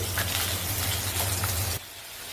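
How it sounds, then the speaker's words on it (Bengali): Papaya pieces sizzle loudly while frying in a pan, a dense steady crackle and hiss that cuts off abruptly near the end. "পেঁপেগুলোকে আমরা এবার হালকা করে একটু ফ্রাই করে নেব।"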